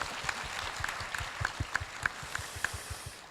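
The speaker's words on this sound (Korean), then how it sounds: "그런 의미에서 박수를 한번 보내주시기 바랍니다." Audience applause during a parents' talk concert on Korea's free-semester school program, a dense, moderately loud wash of clapping with no one speaking over it.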